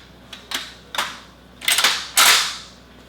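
A Canadian Forces AGS-17 automatic grenade launcher fires during a crew drill, giving a handful of sharp, cracking reports that grow louder and bunch together toward the end, with no talk.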